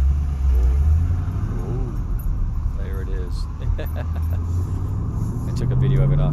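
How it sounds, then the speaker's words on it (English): A car engine rumbles steadily from a played-back recording, a low droning idle that swells slightly at the end, while a person talks over it. "So this one is my car that I have off island."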